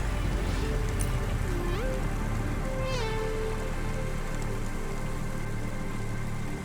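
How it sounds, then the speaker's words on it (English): Steady rain falls outside a restaurant in the video game Cloudpunk, a constant loud hiss and patter with a few synthetic tonal chirps and blips over it. "Don't let all the rain get you down."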